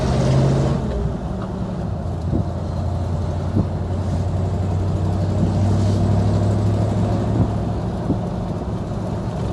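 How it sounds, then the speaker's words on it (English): A 1946 Mercury 8 convertible pulls away in second gear, its engine giving a steady, low rumble that holds evenly throughout, close and continuous with no talk over it. "Second gear pull away, smooth as silk."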